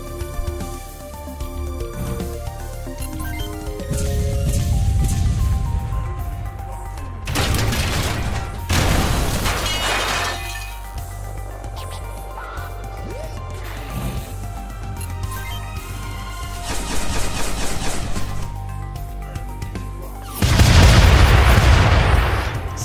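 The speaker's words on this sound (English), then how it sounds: "Oh, these guys have cannons." Mech battle in the video game Front Mission 2 Remake, with repeated heavy cannon blasts and booming explosions over a continuous game music score, some hits much louder than others.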